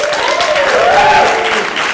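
Comedy club audience applauding in a steady, dense wash of clapping that holds for about two seconds, loud and close throughout with no talk over it.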